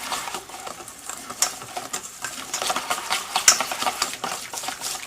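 A whisk beats natural unsweetened cocoa into brownie batter in a bowl, giving a steady run of quick, scraping clicks and swishes that keep up a close, busy rhythm for the whole stretch.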